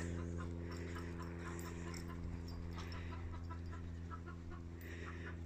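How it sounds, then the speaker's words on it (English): Several backyard chickens cluck and squabble among themselves, their rough, uneven calls rising over a constant low mechanical hum in a quiet setting. "Them poor chickens. They're all having a row between themselves now."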